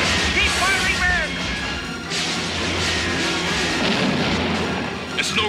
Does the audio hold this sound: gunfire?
yes